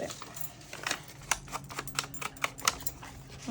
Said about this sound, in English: I need to cut the top because otherwise it won't fit.